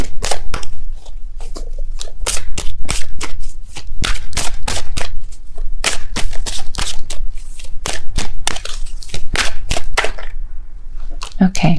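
Tarot cards being shuffled hard and continuously, close and loud rapid riffling slaps and flutters, with a brief spoken word.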